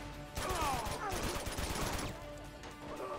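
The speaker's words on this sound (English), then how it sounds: "Shoot the gun." Gunfire bursts out in Uncharted 2 on PS4, a rapid volley of sharp shots over several seconds mixed with game sounds and voices, at moderate loudness.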